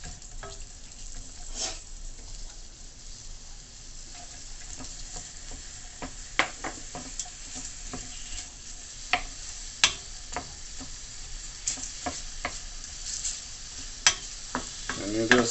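Aromatics sauteing in oil for coconut curry shrimp: a soft sizzle under frequent sharp clicks and scrapes of a utensil stirring against the pan, close up and without speech.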